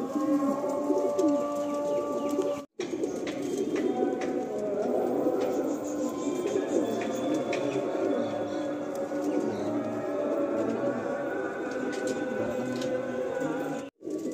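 Madrasi pigeons coo steadily in a pigeon loft, a continuous chorus of low throaty calls close by, with a person talking over much of it.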